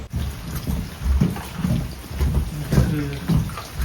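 Rain falls steadily through a thunderstorm on a motorcycle trip, with low thunder rumbles rolling in repeated waves under a constant wash of rain noise.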